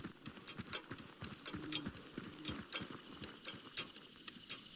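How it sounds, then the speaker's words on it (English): Horses in the Hunt Showdown video game clip-clop at a walk, a faint, irregular run of hoof strikes on hard ground, close by, with no speech. "I'll hide by the horses."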